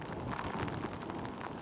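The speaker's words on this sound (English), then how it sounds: "So heavy rain and it continues to be an issue. We've already had gusts to 60, maybe even higher." Strong wind from Hurricane Delta buffets the microphone near Lake Charles in heavy rain, a loud, steady roaring rush with no speech.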